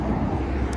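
Roadside traffic in Japan heard while waiting at a bus stop: a steady, fairly loud rumble of passing vehicles with wind buffeting the microphone, no voices.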